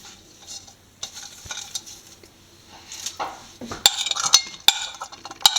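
Chopped vegetables with slit green chillies, cloves and cinnamon go into a stew pot of potato and carrot: quiet shuffling and stirring at first, then sharp metallic clinks of a spoon against the pot, close by.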